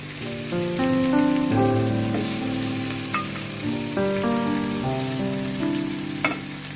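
Chicken pieces are added one by one to spiced oil in a karahi for a wedding-style shahi chicken roast, with a steady frying sizzle running under prominent background music.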